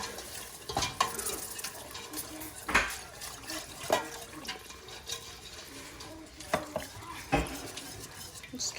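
A whisk clinks and scrapes against a pot while milk is stirred into a soup base for broccoli cheddar soup, irregular metallic taps over a soft liquid swish, with some quiet background noise.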